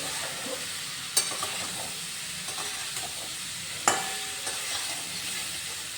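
Taro stolons being stirred and fried in a pan, a soft steady sizzle punctuated by two sharp clanks of the spoon against the vessel and lighter scraping between them, with no talk.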